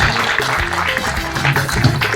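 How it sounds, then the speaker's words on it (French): Audience at a community gathering cheering and applauding, loud and dense clapping with voices mixed in for a couple of seconds. "Encore des acclamations, s'il vous plaît."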